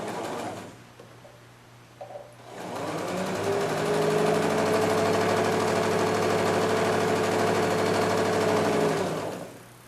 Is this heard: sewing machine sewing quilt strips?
yes